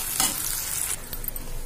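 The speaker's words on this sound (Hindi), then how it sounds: "थोड़ा प्याज होने वाला है, मुझे ज्यादा नहीं लाल करना है, थोड़ा हल्का ब्राउन ही करना है" Onion frying in a pan and being stirred, cooked only to light brown, with a steady close sizzle and a louder scrape of the spoon near the start, no voices.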